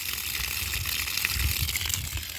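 A garden hose runs with a steady, close hiss and gush of flowing water, soft and continuous with slight bubbling.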